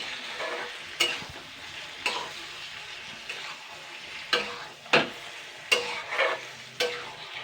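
Fish fat frying in a pan, sizzling steadily while a spatula scrapes and stirs it in regular strokes roughly once a second, close and clear.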